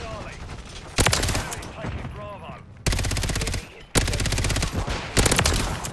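Bursts of automatic gunfire from the video game Modern Warfare 3, loud rapid rattling volleys that start and stop abruptly, with game voices and radio chatter faintly underneath.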